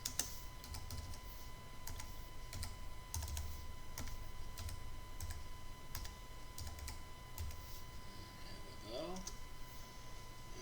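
Commands are typed on a computer keyboard during a networking lab, irregular bursts of crisp key clicks under a faint steady hum, with a brief voice near the end.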